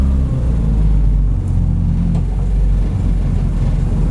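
A Spoon Sports Honda Civic SiR EG6 N1 race car drives slowly in a small space, its engine a loud, close, steady low rumble with slight shifts in pitch and no voices.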